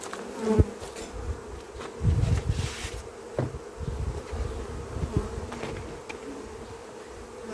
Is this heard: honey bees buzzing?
yes